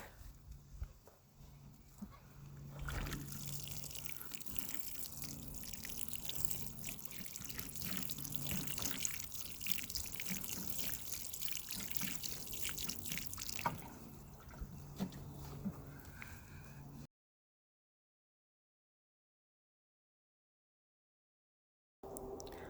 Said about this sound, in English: So let's water this one in.